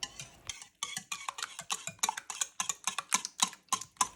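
A whisk beating a mixture in a bowl after 200 ml of whole liquid cream is added, giving quick, steady clicking strokes against the bowl, close and clear with no talk.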